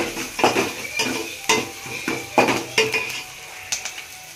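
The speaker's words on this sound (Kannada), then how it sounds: "ಬೀನ್ಸು ಮತ್ತು ಮುಳ್ಳಂಗಿ ಎಲ್ಲ ಒಂದೊಂದು, ಸ್ವಲ್ಪ ಬೀನ್ಸು. ಚೆನ್ನಾಗಿ ಫ್ರೈ ಮಾಡ್ಕೋಬೇಕು." Chopped beans, radish and carrot fry in a pan for vegetable sambar, with a steady sizzle broken by repeated stirring scrapes and utensil clinks, close and moderately loud, with no talking.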